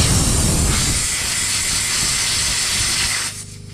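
Pressurized air hissing steadily out of a tire valve after the valve stem is pulled, a loud close continuous rush that holds for about three seconds before dropping off.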